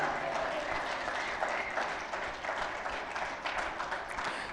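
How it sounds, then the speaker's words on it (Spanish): A church congregation bursts into sustained applause and ovation during a sermon, a dense wash of many hands clapping with cheering voices mixed in, steady and moderately distant throughout. "celébrelo con una gran ovación"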